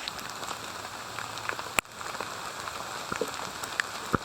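Rain falls steadily at a cold campsite, a dense, even patter on surfaces with scattered close drops ticking louder and one sharp knock partway through.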